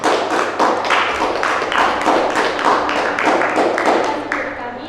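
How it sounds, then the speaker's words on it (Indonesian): Students in a classroom clap for a group, a steady burst of many hands applauding at close range that carries on for several seconds and tapers slightly at the end. "tepuk tangan untuk kelompoknya Olin ya."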